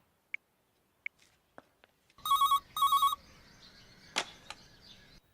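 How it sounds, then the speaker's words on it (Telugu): A landline telephone rings in two short double bursts of bright electronic trilling, preceded by faint scattered clicks and followed by a low room hum with a sharp knock. "ల్యాండ్లైన్కి ఫోన్ చేసి నేనే కనెక్ట్ చేస్తాను"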